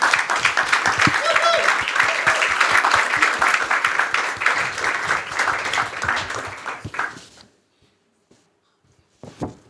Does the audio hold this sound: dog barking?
no